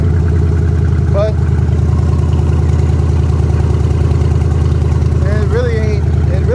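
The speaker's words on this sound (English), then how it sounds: "Now you see here, it's idling" A Ford Maverick fitted with a swapped 302 EFI V8 idles steadily and fairly loud, with a continuous low engine rumble running throughout while someone talks over it.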